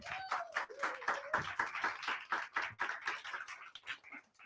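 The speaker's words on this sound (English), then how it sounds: "give her a massive round of applause" A studio audience claps and cheers for a contestant named Cath on the live final of a talent show stage. The clapping comes in uneven bursts with a voice or whoop rising over it, then fades toward the end.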